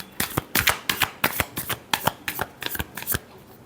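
Tarot cards are shuffled in a fast, crisp run of about a dozen riffling bursts, close and clear with no talk.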